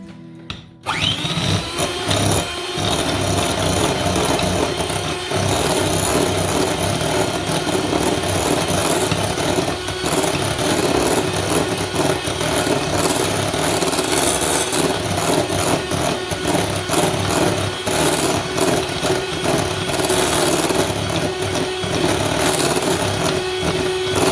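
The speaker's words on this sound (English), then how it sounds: "So first I'm gonna add in the cream cheese and just give this a whisk." Cream cheese is whisked for carrot cake icing with an electric mixer that runs loud and continuous throughout, a steady motorised whir with faint rhythmic scraping.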